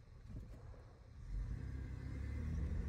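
A flooded Buick Rendezvous engages drive and starts moving, its engine rumbling low and quiet, then swelling into a steadier, fuller drone as it rolls, with no speech.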